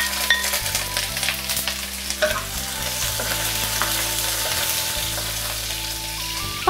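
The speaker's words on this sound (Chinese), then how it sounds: "锅烧热后，我们加点油，爆香一下葱姜蒜" Scallion, ginger and garlic sizzle and crackle in hot oil in a heated wok, a steady close frying hiss with faint stirring scrapes and no talk.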